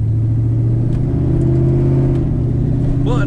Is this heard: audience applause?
no